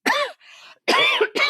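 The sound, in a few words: cough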